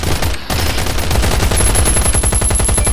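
Rapid, loud gunfire in a survival shooter game, with fast, steady repeating shots from close range for the whole stretch.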